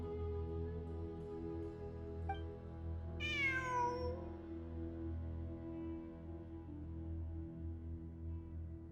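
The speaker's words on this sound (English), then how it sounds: "I'm not hearing things. It really is a cat." Cat meowing in Genshin Impact, a single drawn-out, falling meow ringing over a steady low ambient game soundscape, with no speech.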